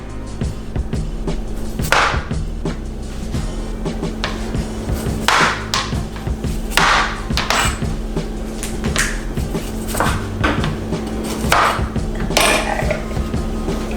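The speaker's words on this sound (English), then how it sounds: "I'm gonna go ahead and just kind of trim the ends off these sweet potatoes" Knife trimming the ends off sweet potatoes on a cutting board, a few sharp chopping knocks spaced out over steady kitchen background noise, close and moderately loud.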